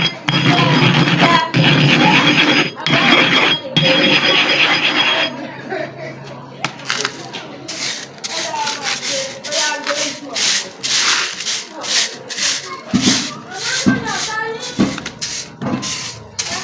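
Steady abrasive rubbing of a super-hard manual sharpening stone being ground flat, loud and continuous at first, then broken into choppier strokes with light clinks, close up and with no talk.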